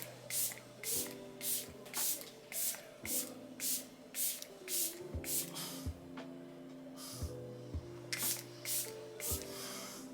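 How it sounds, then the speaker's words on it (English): A face mist of makeup setting spray released in a quick series of about a dozen sharp, hissing pump bursts, close and fairly loud, with brief pauses between groups and a low tonal hum underneath. "I'm gonna spray again"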